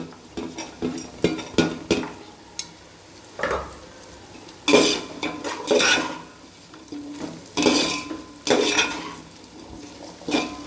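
Beans being tipped into a pan and stirred for a vegetable biryani, with repeated clinks and scrapes of a utensil against the pan in irregular bursts, close and fairly loud, with no talking.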